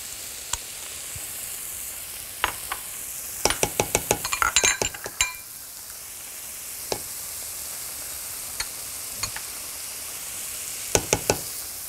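Garlic and onion sizzle in a hot pan, a steady low frying hiss broken by scattered sharp clinks and scrapes of a utensil against the pan, with a dense cluster of knocks partway through and no talking.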